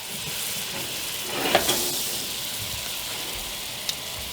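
Butter and oil sizzle in a cast iron skillet for cooking steak, a steady, fairly soft broadband hiss with a couple of brief crackling pops, heard alone without talk.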